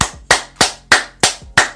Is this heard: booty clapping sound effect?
yes